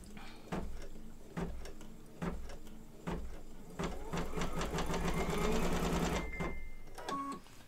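An embroidery sewing machine stitches a mug rug in the hoop, its needle driving a fast rattling pulse in short bursts and then a longer run, moderately loud with a person talking over it.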